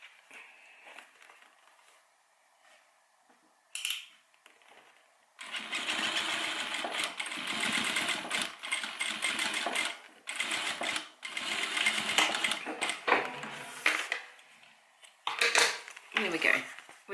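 Sewing machine top stitching a cabin bag, running in long steady bursts with brief pauses between, close and fairly loud, preceded by quiet handling sounds.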